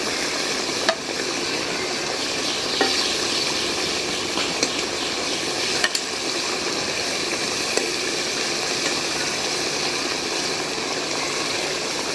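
Food being sautéed in a pan at home, a constant broad sizzle that holds steady throughout, broken by a few sharp clicks of a utensil against the pan.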